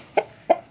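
A young chicken, a rooster not yet through its molt, gives two short, soft clucks about a third of a second apart, close by with no talking over them.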